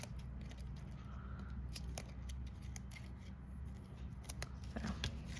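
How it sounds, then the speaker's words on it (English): Scissors snip through paper for a Christmas lantern card, a string of quiet, crisp cuts in uneven rhythm, close and soft over a faint background hiss. "So I'm just gonna have to cut it."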